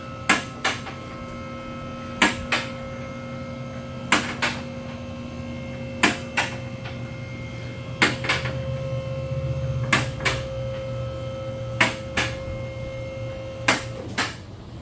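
A car lift raises a Chevy truck with a steady mechanical hum and drone, punctuated about every two seconds by sharp clicks of the safety latches catching, close and evenly paced.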